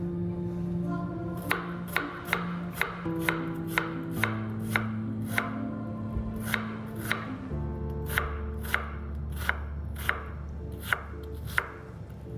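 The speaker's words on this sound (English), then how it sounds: "Now let's chop the onion." A knife chops onion on a cutting board in a steady run of about fifteen crisp, evenly spaced knocks, close up and unaccompanied by talk.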